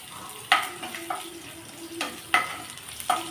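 Urad dal, dried chillies and chopped garlic sauté in hot oil, a soft continuous sizzle broken by a few sharp scraping stirs of a spoon in the pan, close and without talk.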